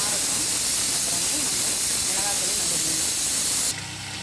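Eggplant sautéing in a pan for a vegetable biryani and brinjal pachadi gives off a steady, close sizzling hiss that runs for several seconds, then drops abruptly to a quieter sizzle near the end.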